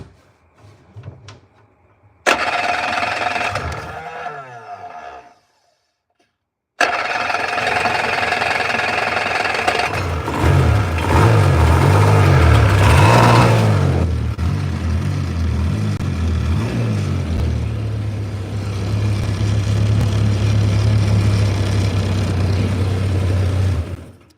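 A cold engine with no primer is cranked by hand and catches, settling into a steady, loud idle that runs on close by, with knocking and rattling mixed in.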